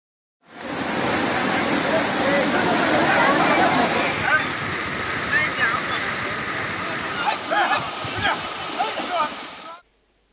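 Floodwater from heavy rain rushes through roads turned to rivers in Ratlam, a loud continuous wash of churning water filling nearly ten seconds, broad and steady, with faint splashes toward the end.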